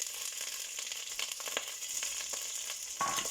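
Onions dropped into hot oil for beef biryani, a soft continuous sizzle with faint crackles, rising slightly louder at the end, no voices over it.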